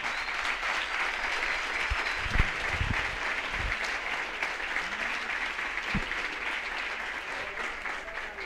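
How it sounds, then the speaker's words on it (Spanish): Sustained applause from a conference audience fills the hall, a dense even clatter of many hands with a few low thumps, holding steady throughout. "saludémoslos con un aplauso como lo hicimos"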